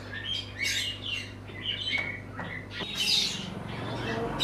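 Lahori and Sirazi cross pigeons give short, high chirps and squawks in scattered bursts, fairly close but soft, against a low steady hum.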